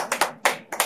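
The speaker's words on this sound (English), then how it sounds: "Give yourselves a hand." A seated audience briefly applauds itself at a wellness talk, a short burst of scattered hand claps that comes in a few quick overlapping waves, fairly close and not very loud, with no voices over it.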